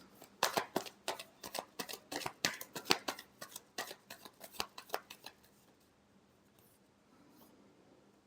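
Tarot cards shuffled by hand, a close, quiet run of rapid crisp riffles and snaps for about five seconds, then stopping into near silence.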